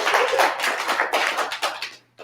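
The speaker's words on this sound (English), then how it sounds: "For the video, let's clap it up for Danny, all right?" Audience of students at a Java programming talk clapping together in a dense, steady round of applause that thins out and tapers off near the end, with a final few claps.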